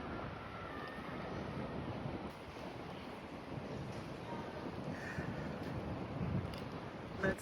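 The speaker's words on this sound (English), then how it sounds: "I've never seen the water look that choppy or the waves that high" Wind and choppy surf at a beach in Torremolinos make a constant rushing, buffeting wash, with the wind hitting the microphone and the waves breaking underneath.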